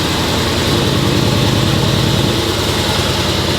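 A Mercedes engine runs at a steady, loud idle close by, a continuous low rumble with an even pulsing texture and no voices.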